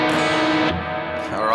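Guitar octaves strummed with the other strings left unmuted, a dense, messy wash of ringing notes, loud and sustained with a brief dip midway.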